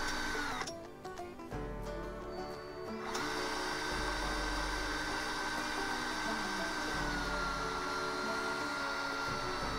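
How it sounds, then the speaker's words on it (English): A drill spins a model car wheel on its axle, polishing a Corgi Morris Mini Minor wheel with water and salt: a steady motor whine holds throughout, with a burst of rattling grinding early on and low rumbling surges underneath. "we can put the axle that remains with the wheel on into the drill"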